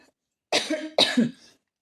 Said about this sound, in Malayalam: ചെറുതായിട്ട് ചുമയുണ്ട്